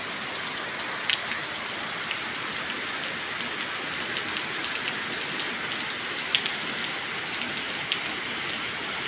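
Rain falls steadily over the countryside in the Bicol region, a dense even hiss of drops landing on surfaces nearby, with no voices over it.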